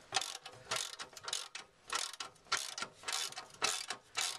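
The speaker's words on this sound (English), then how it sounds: "Get your 15mm socket under there." Ratchet with a 15mm socket tightening a bolt on an aftermarket rear bumper bodykit for a Land Rover Freelander 2, heard as rapid bursts of clicking in a steady back-and-forth rhythm, close up and clear with no talking.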